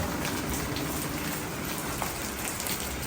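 Steady rain falls outdoors where red lotus seedlings are being sown in planting containers, a dense, even hiss of drops pattering on surfaces throughout, close and continuous with no talk.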